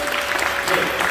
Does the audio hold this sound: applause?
yes